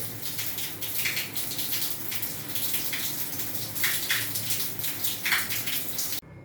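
Cold water gushes steadily through a geyser under repair in a home, a loud continuous splashing flow that cuts off abruptly at the end.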